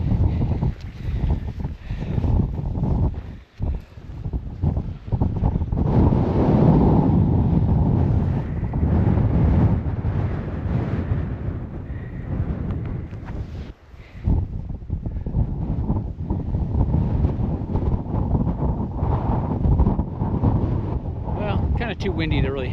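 Strong wind roars across a summit along Alaska's Denali Highway, buffeting the microphone in loud, sustained gusts with a couple of brief lulls.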